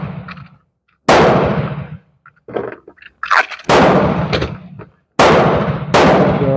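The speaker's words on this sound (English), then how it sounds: "now we'll try the Ruger standard velocity 22 target" A Beretta Olympia pistol fires Ruger standard velocity .22 target rounds with lead-nose bullets. Three loud, close cracks each trail off into a short echo, with quiet handling clicks between the shots.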